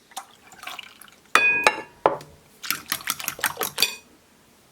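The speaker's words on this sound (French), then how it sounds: "Je mélange tout ça rapidement et j'intègre le lait." Milk poured into a potato gratin mixture and stirred in a bowl, a bright splashing pour followed by a run of quick clinking, sloshing stirs, close and clear.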